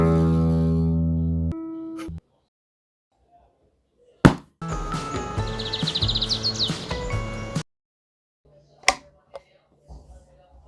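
A plucked guitar string rings out and fades, then after a pause a bird sings for about three seconds, followed by isolated short drum beats and light-switch clicks, each sound separated by silence.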